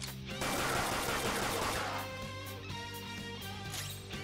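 A gun attack in Persona 5 Royal opens with a loud, dense burst of rapid gunfire. A ringing musical tail with sustained tones follows as the shots fade.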